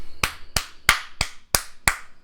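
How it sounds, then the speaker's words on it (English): Six sharp, evenly spaced hand claps, deliberately soft and close, each a crisp broadband crack with no talking. "I'm clapping like that on purpose"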